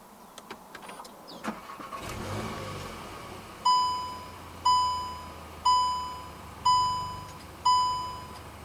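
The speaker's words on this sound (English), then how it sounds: "So to start the Golf, make sure the key fob is inside the car. Put your foot on the brake and press the start button located right here." A 2024 Volkswagen Golf R with the 2.0 TSI engine cranks and catches after a few clicks, then settles into a steady idle close by while a chime repeats five times at even intervals.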